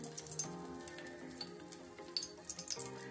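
Oil heating in a kadhai for garlic, a soft crackling sizzle with scattered pops and faint clinks, quiet and close, no talking.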